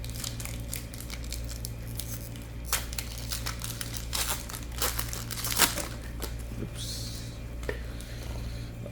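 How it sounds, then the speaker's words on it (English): Lorcana trading card booster pack wrappers crinkle and tear close up in short irregular bursts over a steady low background hum. "first Lorcana box pack opening"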